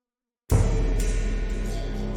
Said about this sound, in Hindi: चेत्सी फ्लाई अफ्रीकन स्लीपिंग सिकनेस का खौफ